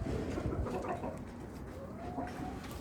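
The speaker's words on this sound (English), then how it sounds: "This is silky chicken." A silkie chicken clucks softly among other birds, low, murmuring calls repeating close by over a busy background of bird noise.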